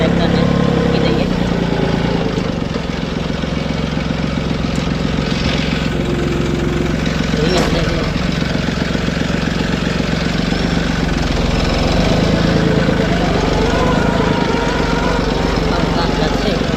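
A tractor engine runs steadily at a work site where road-repair blocks are being made, a continuous loud mid-low drone throughout with background activity and some voices.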